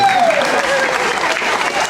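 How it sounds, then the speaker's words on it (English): Audience applause at a Universal Studios show, a dense, loud burst of clapping from a large crowd that sustains evenly throughout. "Round of applause for Tracy, everybody"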